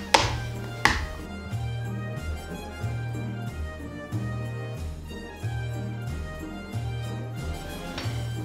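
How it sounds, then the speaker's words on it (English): A knife chops through a chocolate bar on a cutting board for buttery toffee, with a steady rhythm of firm, close thuds and crisp cracks, about a dozen strokes, and no voices. "I'm gonna go ahead and cut up the other bar too"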